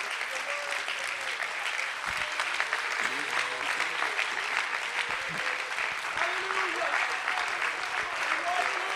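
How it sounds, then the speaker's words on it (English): A church congregation gives sustained, enthusiastic applause, steady and moderately loud, with voices and cheers mixed in underneath. "give the Lord one more uproarious round of applause"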